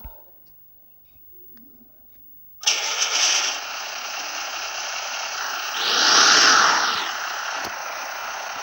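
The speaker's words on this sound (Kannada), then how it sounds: "ಇದು ಸ್ಟಾರ್ಟ್ ಆಗೋ ಸೌಂಡ್ ನೋಡಿ," A video-game Hyundai turbo car's engine cranks and fires after a quiet lead-in, then settles into a steady idle with a swelling exhaust roar midway, loud and close with no talking.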